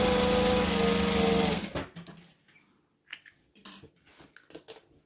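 Sewing machine stitching retro apron fabric, its loud steady motor whir running for about a second and a half before it stops, followed by quiet clicks and handling noises.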